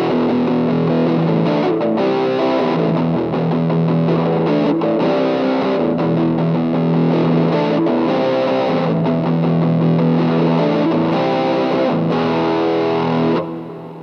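Electric guitar run through a Boss DS-2 Turbo Distortion pedal with the distortion set halfway, playing sustained, fuzzy chords continuously at steady loudness before fading at the very end.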